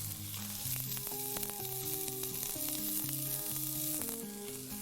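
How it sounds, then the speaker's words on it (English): Diced onion, ginger and garlic fry in a pan with a constant close sizzle and crackle, while a melodic background tune of stepping notes plays throughout. "So you want to fry this until all that beautiful like ginger and garlic and onion, all those smells come up."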